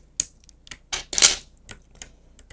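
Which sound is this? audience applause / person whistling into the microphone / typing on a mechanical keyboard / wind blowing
typing on a mechanical keyboard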